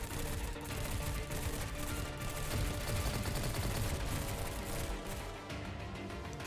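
Grenade blasts and gunfire crackle through a firefight in the video game Girls Frontline, a dense, continuous barrage of rapid pops and booms throughout, moderately loud with no voices on top.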